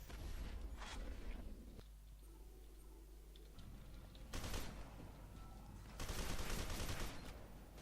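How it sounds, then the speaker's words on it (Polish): Bursts of rapid video game gunfire crackle in short volleys, separated by quieter stretches of low background hum. "Dobra, słychać strzały, okej."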